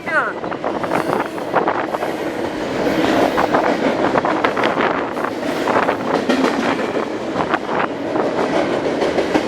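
A double-stack freight train rumbles past with clickety-clack wheel beats and gusts of wind on the microphone. The sound stays loud and close for the whole stretch.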